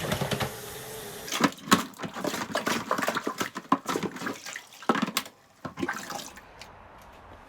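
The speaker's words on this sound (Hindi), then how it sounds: "अब इनको फ्रेश वाटर से धो देना है।" Furnace electronic air cleaner filters rinsed with fresh water, an uneven splashing and spraying with irregular surges and gurgles near the microphone, no voices heard.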